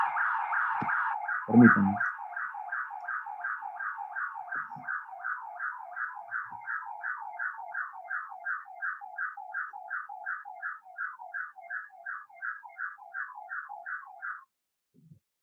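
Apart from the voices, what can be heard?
alarm going off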